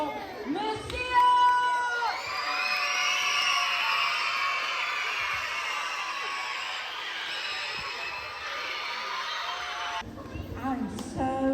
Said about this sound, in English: Now, I want you guys to give it up for your principal, Miss Sheila.